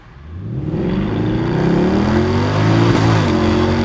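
A Mercedes C63 launches hard from a standstill, its engine revving loudly and climbing through the gears while the rear wheels spin, a close, continuous roar swelling within the first half second and holding strong to the end.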